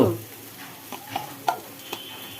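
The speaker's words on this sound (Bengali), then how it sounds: "শাক ভাজা কমপ্লিট হয়ে গেল" Red amaranth greens fry in a pan, a soft close sizzle with several sharp clinks and scrapes as a utensil stirs them, louder at the start, with no voices.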